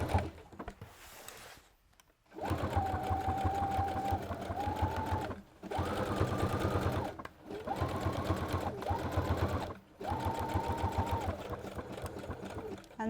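Sewing machine running a zigzag stitch around the pupil of a fabric snake toy, whirring in several steady bursts separated by short pauses, loud and close with no talking.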